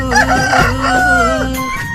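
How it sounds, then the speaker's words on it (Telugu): A rooster crowing at dawn, a loud close sustained cock-a-doodle-doo with rising and falling pitch that fills the short moment. "తెల్లవారి కోడి కూత పిలుపులు"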